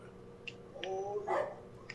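A dog barks in a backyard, a few short yips and a whimpering bark over about two seconds, heard from a little distance with no talk over it.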